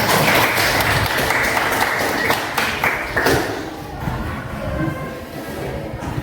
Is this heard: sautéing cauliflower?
no